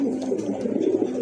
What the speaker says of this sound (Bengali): খুবই সুন্দর এক জোড়া কবুতর, খুবই ফ্রেশ আর অ্যাক্টিভ, খুবই ভালো ডাকে